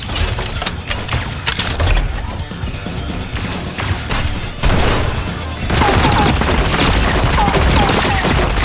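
Rapid bursts of gunfire from Super Mecha Champions, a battle royale squad match, crackle throughout in dense volleys with sharp smashing impacts, loud and close over a busy game soundscape.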